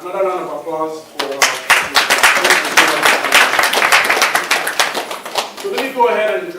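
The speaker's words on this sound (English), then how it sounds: "Another round of applause for" Crowd applause breaks out at an Igbo community business banquet, with a steady burst of many hands clapping for several seconds between stretches of someone speaking at the start and end.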